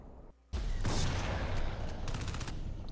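Shotgun fire in the video game Crysis 3, a sudden loud broadband blast followed by a sustained roar of rapid gunfire and echoing impacts, close and dominant.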